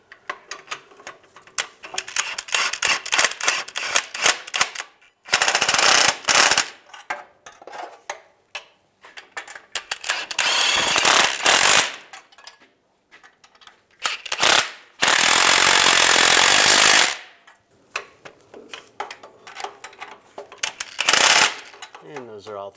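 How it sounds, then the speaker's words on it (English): Ratchet tightening flange nuts on a 2007-2013 Chevy Silverado during a rear main seal replacement, with rapid close clicking runs alternating with louder bursts of mechanical noise and pauses. "Then we're gonna tighten up the nuts. Start on the driver's side, tighten this flange down first because this is the solid flange."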